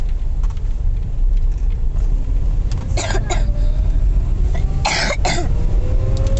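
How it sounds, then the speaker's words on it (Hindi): Two clusters of sharp coughs over a constant low vehicle rumble, the second pair louder and closer. "अभी तक मुझे खांसी लगी हुई है पिछले हफ्ते से"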